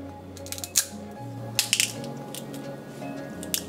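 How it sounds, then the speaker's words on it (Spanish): Kitchen scissors snip and crack through the shell of a cooked crab, a few sharp crunches and clicks scattered over a low background hum, close and fairly quiet. "a falta de herramienta yo tengo estas tijeras que tienen esta parte especial para esto"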